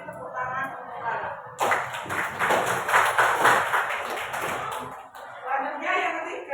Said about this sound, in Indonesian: Ini tepuk tangan untuk Clara.